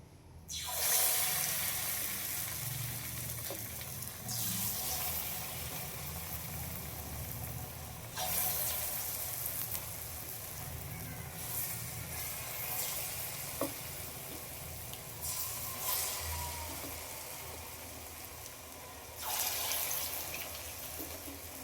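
Bhaji batter of wheat and rice flour, dropped piece by piece into hot oil, gives a loud, continuous close sizzle that surges several times as new portions hit the oil, with no talking.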